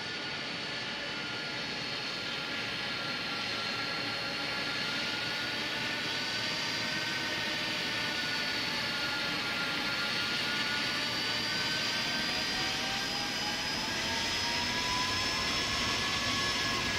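Steady, continuous jet engine roar from an iniBuilds A310 airliner in the X-Plane 11 flight simulator, a broad hiss with sustained whining tones that slowly shift in pitch, holding at an even level for the whole stretch with no talk.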